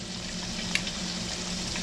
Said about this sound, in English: when you're frying something, you gotta watch them bubbles